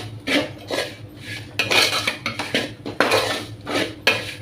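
A spoon scrapes and clatters against a pan while chili powder is mixed in for a dry soya dish, with irregular close metallic strokes and short pauses.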